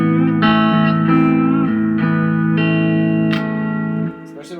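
Electric guitar through a Rockit Super Lead 130 combo amp, an 80s New Zealand boogie design, with heavy reverb; several sustained overdriven chords and notes ring loudly, their long tails fading near the end.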